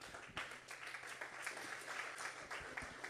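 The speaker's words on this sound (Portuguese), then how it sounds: "Um aplauso para ela que ela merece." An audience applauding a woman during a church gathering: dense, steady clapping fills the whole stretch at moderate volume with a few louder claps and faint voices mixed in.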